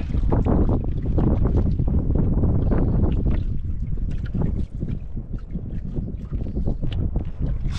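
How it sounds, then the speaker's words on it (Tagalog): Strong wind buffets a boat out at sea, a loud continuous rush with heavy microphone buffeting and low rumble throughout, steady and close. "Grabe sa hangin ah."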